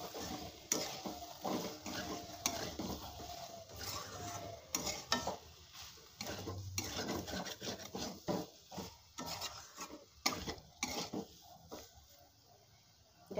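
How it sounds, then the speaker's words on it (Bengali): Boiled potatoes and spices stir-fried in a pan, heard as a steady scraping and rubbing of a spatula against the pan, with faint sizzling running underneath throughout. "আর একটু কষিয়ে নেবো, যাতে আলুর সাথে মশলাটা"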